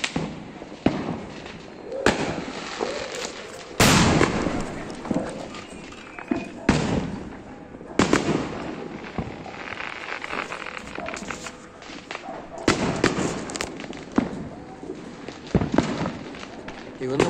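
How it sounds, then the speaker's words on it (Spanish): Fireworks and firecrackers set off at a family New Year celebration: repeated sharp bangs and crackling bursts, some close and loud, others scattered, spread across the whole stretch with people talking in the background. "en este momento vamos a quemar algunos cohetes en compañía de unos familiares"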